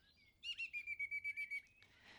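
A bird chirps in a quick run of about ten bright, evenly spaced tweets, clear and close against a quiet background, during a shadow-puppet show about a tiny seed.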